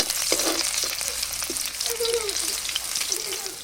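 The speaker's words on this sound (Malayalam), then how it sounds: "ഇനി ആ ഓയിലിലേക്ക് തന്നെ നമുക്ക് ഇഞ്ചിയും വെളുത്തുള്ളി ഇട്ട് കൊടുക്കാം." Ginger and garlic frying in hot oil for chicken fried rice give a steady close sizzle that crackles throughout, with a few brief stirring knocks and nobody talking.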